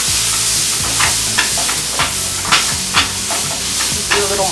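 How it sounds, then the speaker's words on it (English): Zucchini noodles with garlic and shallots stirred in a pan, a continuous sizzle broken by several distinct scrapes and clacks of the utensil, close up with no voices over it. "Mixing again."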